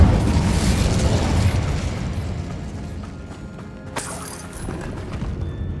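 A fire spell blast cast in Hogwarts Legacy, a loud fiery burst with a roaring rumble that fades over several seconds, followed by a sharp crackling flare near the end.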